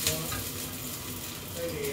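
Garlic fries in a pan, giving a soft, continuous sizzle with faint crackles that holds steady throughout at a low level.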